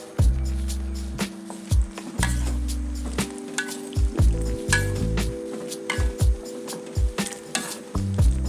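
Coconut milk broth for kolak being stirred in a pot, repeated scraping and sloshing strokes with faint clinks, close and fairly loud, no talking.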